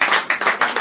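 A short burst of clapping from a group at a Hindi poetry gathering, several quick bursts of hand claps close by, with no talking.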